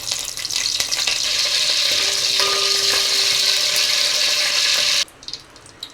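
Cumin seeds and curry leaves frying in hot oil for an egg and garlic chilli dish, a steady, close hiss of sizzling that runs for about five seconds and then drops away abruptly, with no talking.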